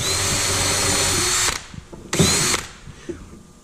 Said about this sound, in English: So what I like to do is just drill down enough to give it just a little relief.